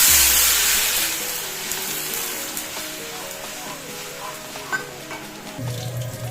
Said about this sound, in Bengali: চানা ডালটা আমার লালচে ভাজা হয়ে গেছে, এটার মধ্যে একটু জল দিয়ে দিই।